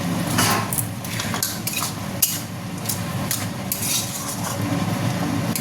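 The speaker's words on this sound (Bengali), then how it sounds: "এইবার নাড়া দেবো।" A spoon scrapes and clinks repeatedly against a pan while mixed vegetable curry is stirred, an irregular run of close metallic taps over a soft sizzle.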